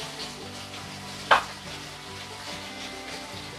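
Quail with legs and wings browning in hot oil, giving a steady, gentle frying sizzle throughout, with one brief sharp clink of a utensil partway through, close and moderately quiet, no voices.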